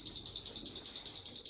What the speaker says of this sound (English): the display will show that the alarm went off